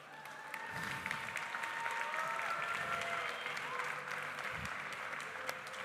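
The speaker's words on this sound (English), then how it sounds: "Big applause for Sandro," Steady applause from a contest audience at CIGS Switzerland 2024 for storyteller Sandro Roth, sustained and even throughout, with faint tonal sounds underneath.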